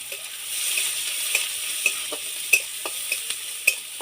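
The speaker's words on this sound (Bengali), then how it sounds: "এর মধ্যে দিয়ে দেবো পেঁয়াজ কুচি পেঁয়াজ কুচি একটু ভালো করে ভেজে নেবো" Chopped onion fries in hot oil in a pan for a banana and potato fritter curry, giving a steady sizzle with scattered sharp clicks and scrapes as a spoon stirs it, close and alone.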